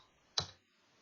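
A single sharp keystroke on a computer keyboard, one close, crisp click in an otherwise quiet room.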